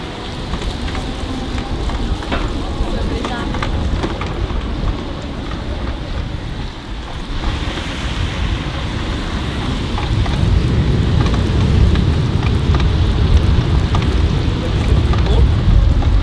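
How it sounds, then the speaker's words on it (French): Steady rain pouring outdoors, a dense continuous hiss with wind gusts, loud and close, growing heavier in the second half, with a voice speaking briefly over it. "il pleut un peu, c'est casse-couille"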